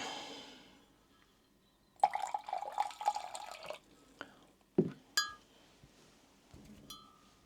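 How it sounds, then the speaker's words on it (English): Water poured out of a glass bowl, a trickling splash for a couple of seconds followed by scattered drips and light glassy clinks, close and quiet. "Let's pour a bit out."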